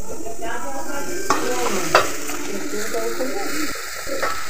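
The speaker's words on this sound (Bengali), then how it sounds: "এই যে শাক ভাজা হচ্ছে" Leafy greens fry in a pan with a steady sizzle and occasional stirring scrapes, close and continuous, with a few brief clinks over the hiss.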